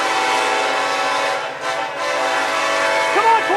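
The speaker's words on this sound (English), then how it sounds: "Listen to those EMDs throttle." A Norfolk Southern freight train pulled by EMD diesel locomotives departs Suffolk, giving a loud, close, steady droning roar layered with sustained tonal harmonics that dip briefly midway, with no voices.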